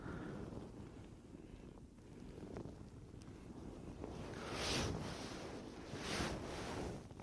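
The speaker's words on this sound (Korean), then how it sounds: "바람까지 불어." Wind blows across a fishing pond at Namjeon fishing site in Hwaseong, Gyeonggi, a soft rushing noise that swells into stronger gusts near the end, with no talking.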